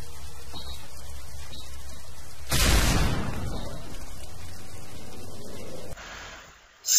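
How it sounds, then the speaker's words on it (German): A flashbang grenade in Call of Duty: Modern Warfare 3 goes off in a sudden loud burst that fades into a steady hiss. It ends in a thin, high-pitched ringing tone as the other sound drops away. "eine Blendgranate!"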